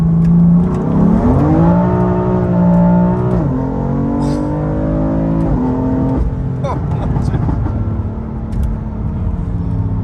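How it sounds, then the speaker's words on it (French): BMW M3 accelerating in second gear in Sport Plus mode, the engine's rising pitch climbing in steps through the revs with crackling pops near the end, heard from inside the car. "Là, on va juste faire une petite accélère en 2 pour voir. En sport plus."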